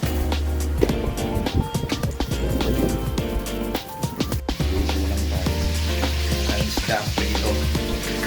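Chicken wings sizzle and crackle steadily as they fry in a hot pan, with scattered pops, light clinks and stirring sounds throughout.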